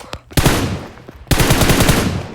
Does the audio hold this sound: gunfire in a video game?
yes